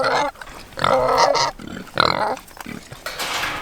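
A tusked pig beside a road gives several close, loud grunts and snorting squeals in uneven bursts separated by brief pauses.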